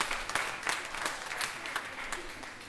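An audience at a religious gathering claps together in a short burst of applause, steady and fairly close, with some distinct individual claps standing out.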